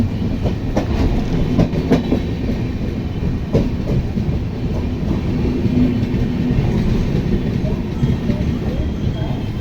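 A train rumbles steadily close by as it arrives at Aluva railway station, with rhythmic clacking of wheels on rails and a continuous low roar throughout.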